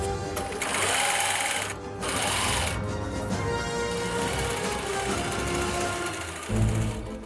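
A sewing machine stitches ribbon onto a flattened costume sleeve, running in loud steady bursts with short pauses between them and a heavier thump near the end.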